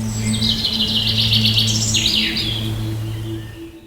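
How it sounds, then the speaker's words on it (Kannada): Birds chirp and trill repeatedly in the green forested valleys of the Biligiri Rangana hills, with bright calls carrying clearly over a steady low background hum and no talking. "ಪಕ್ಷಿಗಳ ಕಲರವ ಇದೆ"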